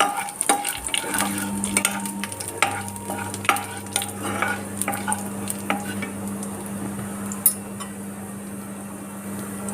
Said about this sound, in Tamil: அந்த எண்ணெயிலையே நம்ம வந்து கொஞ்சம் வெந்தயம் கொஞ்சம் சோம்பு இது வந்து நல்லா பொரிஞ்சிருட்டும்